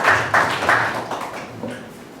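An audience in a hall claps to welcome a paramount Queen Mother of a Ghanaian traditional area, with broad bursts of applause that pulse and fade over a couple of seconds, fairly close and moderately loud.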